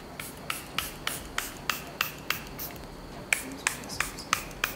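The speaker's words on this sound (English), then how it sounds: "now I'm gonna go back into my setting spray" Charlotte Tilbury makeup setting spray mists out in a run of short, crisp hissing puffs, about a dozen evenly spaced pumps close to the microphone in a quiet room.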